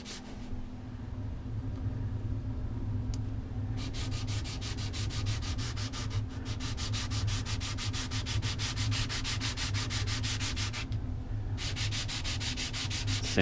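Sandpaper rubbing against a cane reed during reed making, a steady rasping scrub with a low motor-like hum underneath, continuous and close for the whole stretch with brief pauses in the brighter strokes.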